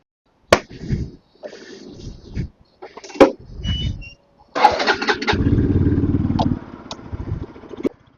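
A motorcycle starter cranks in several short bursts, then the engine catches and settles into a steady idle nearby.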